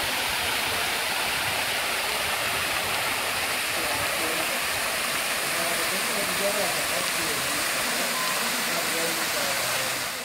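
San Antonio Falls near Los Angeles, a waterfall at least 70 feet high, gives off a loud, constant roaring rush of water close by, with faint voices partly buried beneath the steady wash.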